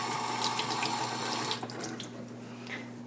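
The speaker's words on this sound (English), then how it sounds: "So you rinse them just a little." Kefir grains rinsed under a running kitchen tap, a steady close stream of water splashing into a sink, continuous and alone, softening slightly toward the end.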